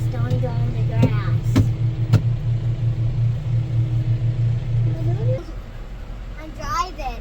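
A vehicle drives slowly around a big loop on a farm, its low engine rumble steady for about five seconds and then easing off, while someone talks throughout.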